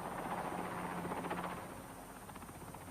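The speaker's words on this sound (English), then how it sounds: "Virtually all movement is by helicopter." A military helicopter flies near a police and army base in South Armagh, its steady rotor thrum and engine whine filling the clip at moderate volume.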